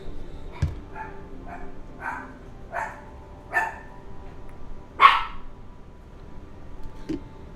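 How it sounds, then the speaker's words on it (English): Several dogs bark in short bursts indoors, a run of five or six yips followed by a louder bark and a final faint one, with no talk over them. "Dogs are freaking out."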